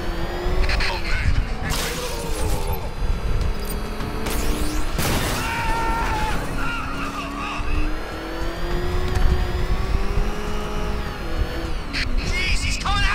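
Car engine driving at speed in the Batman Arkham Knight video game, a continuous revving drone with shifting pitch and occasional tire squeal and crash noises, loud and near throughout.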